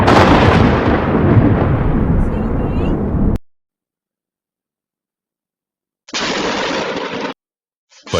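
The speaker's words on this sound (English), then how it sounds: "A wife was filming when a lightning bolt suddenly struck her husband's truck" A close lightning strike hits a pickup truck, bursting into a loud crack of thunder that rumbles for a few seconds, then cuts to silence before another brief noisy burst.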